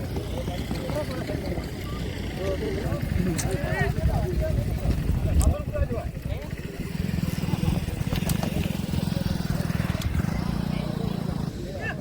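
Pounding hooves of horses galloping in a race, mixed with an engine drone and an excited commentator talking over it.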